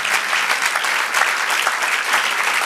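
A church congregation applauding during a Spanish-language sermon, steady dense clapping filling the room at close range with no talk over it.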